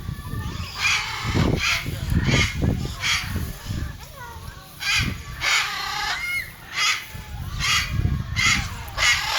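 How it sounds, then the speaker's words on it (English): Macaws in a large sanctuary aviary let out harsh, raucous squawks and calls in repeated bursts, some loud and close, with brief pauses between them. "Got some really beautiful macaws here."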